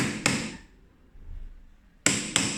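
Mallet strikes on a chisel set into soft wood while cutting a wooden trough planter, three sharp close knocks, a single one followed after a pause by two quick ones, each ringing briefly.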